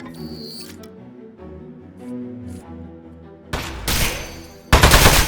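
Gunshots striking metal in the video game Aperture Desk Job, two loud bursts of sharp rapid fire near the end, following a quieter stretch of in-game music and sounds.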